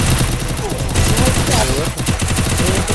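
Sustained rapid gunfire with overlapping shots rattles throughout a Free Fire match, loud and close, mixed with faint game sound effects and a brief voice.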